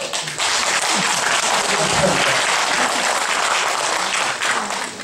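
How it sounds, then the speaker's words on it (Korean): Church congregation applause during a personal testimony: a sustained, loud, dense clapping that fills the whole stretch, with some voices mixed in. "하나님께 드릴 박수죠"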